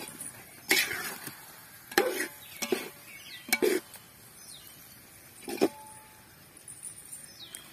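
Spices such as turmeric and chilli powder are stirred in a pan for a village-style anchovy fish curry, giving scattered scraping and clinking knocks over a faint sizzle, with birds calling softly in the background.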